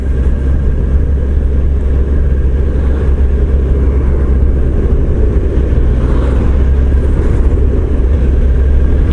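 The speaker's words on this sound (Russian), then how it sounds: "Очень приятный стоковый звук здесь у мотоцикла." Honda CBF1000 motorcycle with its inline-four engine and stock exhaust, a loud, smooth, even idle rumble that holds steady and close throughout without revving or talk.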